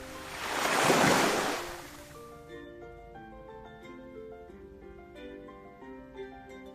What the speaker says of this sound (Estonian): Aga meri vaatas need ja loksus vaikselt